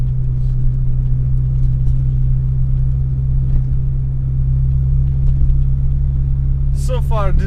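A Renault Clio engine idles after a throttle body replacement, a steady low hum with constant rumble throughout, with people talking over it and a brief higher whine near the end.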